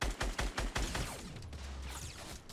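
Rapid burst of video game gunshots, five or six sharp evenly spaced cracks in the first second, followed by a lingering rumbling tail and scattered softer impacts.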